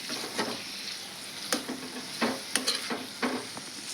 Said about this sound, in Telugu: ఇవి బాగా నూనెలో బాగా ఫ్రై కావాలండి పొట్లకాయ ముక్కలు.